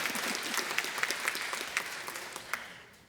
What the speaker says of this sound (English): You may give them a round of applause.